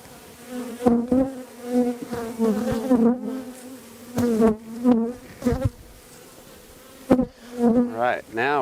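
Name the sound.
honey bees buzzing during a hive inspection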